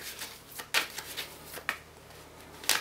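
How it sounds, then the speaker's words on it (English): Tarot cards shuffled by hand for a reading, producing soft papery rustling broken by a few sharper snaps and slaps, close and moderately quiet, with no one speaking. "We'll start the shuffling and see what's coming for you guys"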